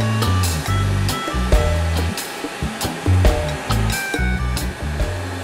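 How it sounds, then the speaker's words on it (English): Tool changer on a CNC mill with a Fanuc 0M control being worked by hand: loud pneumatic hissing and blowing with repeated mechanical clunks and actuation bursts in an irregular rhythm, close by and without talk. "I'm just manually actuating the changer to make sure that this proximity switch was working correctly"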